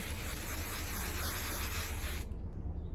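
A steady, close hiss of temporary hair color aerosol spray runs continuously, then cuts off abruptly, leaving quiet room tone.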